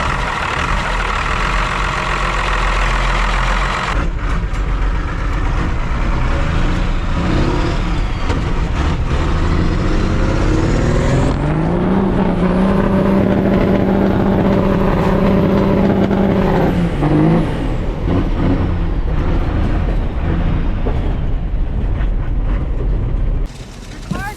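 A rebuilt Cummins diesel truck engine revs steadily while driving, its loud, continuous drone rising in pitch through the middle and dropping back, with faint mechanical rattles over it.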